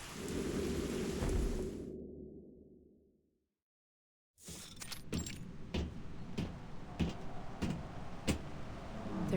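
A thunderstorm from the video game Reverse: 1999 opens with a deep rumbling roll that fades to a brief silence, then returns as steady rain broken by sharp crackling strikes.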